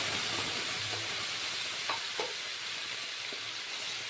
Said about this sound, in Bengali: এবার মশলাটাকে কিছুক্ষণ ভেজে নেব